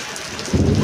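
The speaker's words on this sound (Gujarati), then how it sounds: "અત્યારે સરસ મજાનો વરસાદ વરસી રહ્યો છે" Medium rain falls steadily on a cotton field, and a deep rumble of thunder swells up near the end.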